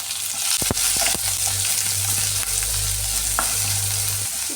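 Shallots sizzle and crackle loudly in hot oil with mustard seeds, dried chillies and curry leaves, a steady close frying hiss for a Kerala-style onion theeyal, with a few sharp pops and stirring clicks early on.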